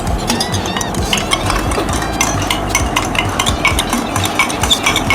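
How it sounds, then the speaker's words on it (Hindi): A spoon swirls rapidly in a glass while a family mixes a strange food combination, giving a steady stream of close, bright clinks and scraping over busy kitchen-like background noise. "स्पून की बहुत आवाज आ रही है गिलास में घुमाने की।"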